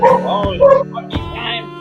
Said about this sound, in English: if you hear that barking